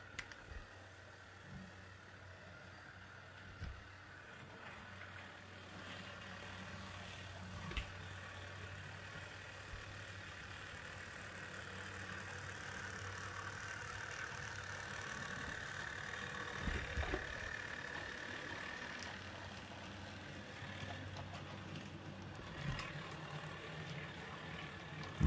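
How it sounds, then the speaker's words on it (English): A model GP60 locomotive with silicone drive shafts and gears runs along the rails, giving a faint, steady mechanical whir and hum that builds slightly over time. "Wow, that's pretty quiet, huh? Considering that's silicone shafts and"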